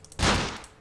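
A single burst of gunfire in the wartime tactics video game Close Combat, set at an Italian desert stronghold, one sharp, loud crack with a short decaying tail.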